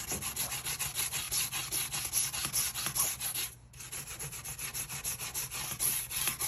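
Tile grout is scrubbed with an abrasive brush, baking soda and vinegar, making a steady run of fast, rasping back-and-forth strokes close by, with one brief pause partway through.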